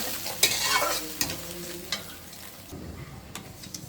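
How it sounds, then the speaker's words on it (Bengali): Ginger-garlic paste frying in a pan sizzles softly as water is added, with several scraping stirs of a spoon against the pan over a quiet, fading hiss. "আদা রসুনটা ভাজা হয়ে গেছে, এখন দিয়ে দিলাম পানি।"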